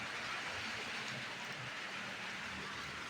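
Steady rain falls in a dense, even hiss with no pauses, moderately loud and close, filling the whole short stretch without voices.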